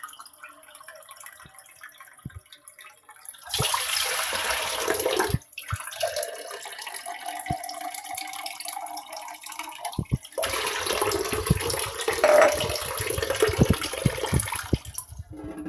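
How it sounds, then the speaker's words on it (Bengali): Water is poured into a pot for brewing green tea, two sustained bursts of rushing, splashing flow separated by quieter gaps with small knocks, all close up. "পরিমাণ মতো পানি দিয়ে নিচ্ছি"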